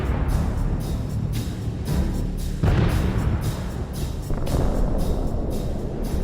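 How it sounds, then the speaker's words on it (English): Explosions in a war zone at Chasiv Yar: several heavy booms and rumbles follow one another over a few seconds, loud and rolling over continuous low vehicle noise. "At least 5 explosions occurred over such a short distance."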